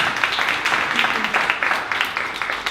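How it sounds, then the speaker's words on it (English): Audience applause at a 1 Million Cups Dallas startup pitch event, a short burst of dense clapping from a room of listeners, mixed with some voices. "We'll give you a round of applause"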